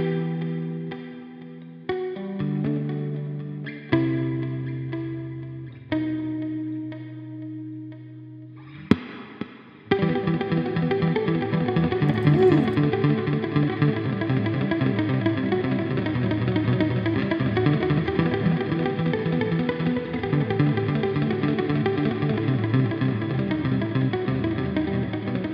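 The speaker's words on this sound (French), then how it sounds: "Normalement, je suis chargé en reverb et en delay. Appliquons un tapping" Electric guitar notes ring out one by one, then rapid two-handed tapped runs swell into a dense, echoing wash of heavy reverb and delay.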